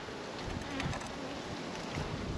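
Honey bees buzz in a dense, steady drone close by at an open hive, a continuous hum of many insects with faint wind noise.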